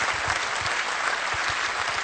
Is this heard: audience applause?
yes